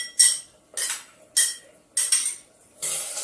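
Minced garlic for Alfredo sauce stirred in a pan with a utensil, making five evenly spaced scraping sweeps, close and fairly loud, with no voices.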